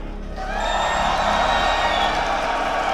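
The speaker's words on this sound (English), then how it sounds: "I hear some crowds, I hear some cheers, but I also hear some boos" Arena crowd at an ESL One Birmingham esports event, a loud sustained roar of cheering and whooping that swells after a quieter start and holds steady, mixed voices blending into a wash of noise.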